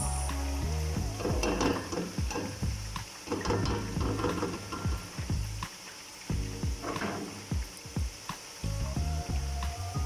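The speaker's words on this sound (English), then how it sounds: "So add a little curry powder to fry the onions with." Onions sizzle with curry powder in a pot for a turkey party stew. Steady frying hiss runs under repeated scraping and clicking stirs close by.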